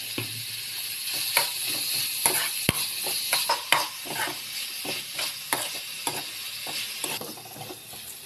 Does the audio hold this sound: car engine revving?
no